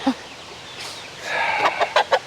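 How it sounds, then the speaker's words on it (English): A young rooster clucks in a series of short, loud, close calls, building into a rhythmic run of bursts toward the end. "this rooster right here"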